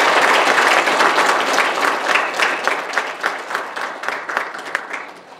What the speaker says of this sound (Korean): 이만일 교수님께 다시 한번 큰 박수 부탁드립니다